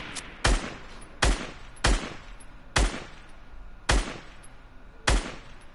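Six separate sharp gunshots from a shooter video game, spaced roughly a second apart, each a loud crack with a short decaying tail over a low background hum and no talking.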